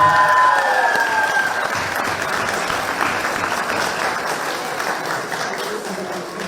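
Sustained audience applause at a table tennis final event in Aghveran, Armenia, steady dense clapping throughout, fairly loud and close, fading slightly toward the end.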